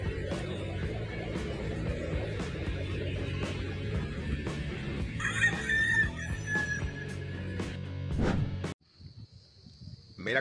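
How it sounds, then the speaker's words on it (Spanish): A rooster crows inside an airport terminal in the Dominican Republic, its call rising over steady crowd hubbub and chatter before a sudden drop to quieter surroundings near the end. "¿Alguien puede explicarme qué hace un gallo en un aeropuerto?"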